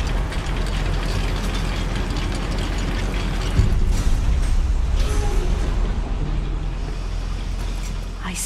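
Goblin mine lift mechanism in Hogwarts Legacy, a dense continuous mechanical grinding and clanking with ratcheting gear texture, loud and steady throughout with a brief heavier surge midway.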